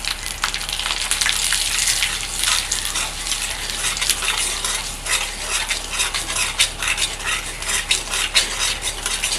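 Ginger paste and cumin powder fry in hot oil for a Bengali fish-head dal, a spoon scraping and stirring through a steady crackling hiss, with frequent close clinks of utensil against the pan and no talking.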